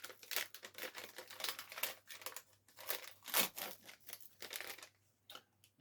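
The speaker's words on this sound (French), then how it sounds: "On va tout simplement ouvrir notre sachet de soupe." A plastic soup sachet is torn and crinkled open while packing trail food for a three-day self-sufficient hike, giving close, busy bursts of rustling and ripping that continue almost without pause.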